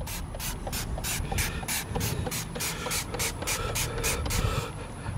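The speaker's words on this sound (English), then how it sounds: "if I start spraying it on," Tire cleaner sprayed onto a tire from a trigger bottle, rapid rhythmic hissing squirts repeated about a dozen times, close and fairly loud.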